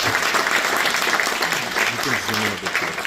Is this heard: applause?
yes